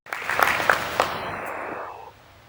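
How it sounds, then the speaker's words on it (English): An audience at a lecture applauds to welcome a barrister to the stage: a burst of dense clapping that swells quickly, holds for about two seconds, then tapers off. "Please give a round of applause as we make welcome Barrister Olumide."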